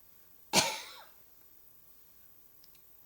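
A single sharp cough, close and fairly loud, trailing off quickly into a quiet room with faint small noises afterward.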